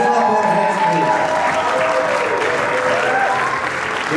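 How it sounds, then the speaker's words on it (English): Wedding guests clapping hands in church, a dense sustained round of applause with background music tones running beneath it. "Let's clap our hands, please."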